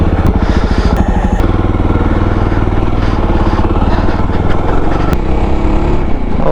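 A Jawa Bobber 42 motorcycle engine revs loud and close, a throbbing single-cylinder drone that climbs and shifts in pitch as it accelerates, with no talk over it.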